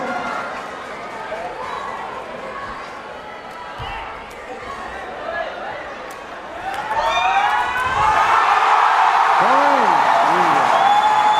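A large crowd at a sepaktakraw World Cup match roars and cheers, swelling louder toward the end as horns and whistles rise above the noise, while a commentator talks over it.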